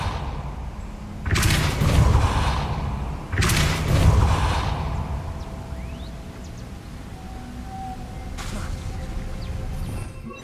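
Depulso force spell cast in the Hogwarts Legacy video game: two loud, booming broadband blasts with thudding low ends, each lasting about a second, followed by quieter ambient game noise and a faint whoosh near the end.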